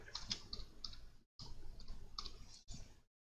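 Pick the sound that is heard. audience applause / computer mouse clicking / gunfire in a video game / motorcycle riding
computer mouse clicking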